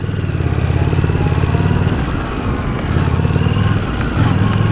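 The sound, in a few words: 2017 Harley-Davidson Street Rod motorcycle riding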